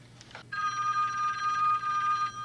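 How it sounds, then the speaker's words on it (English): An unplugged telephone rings in the 1984 horror film A Nightmare on Elm Street, one long, steady electronic bell trill, loud and close, after a brief soft noise, with no voices. "The unplugged phone rings."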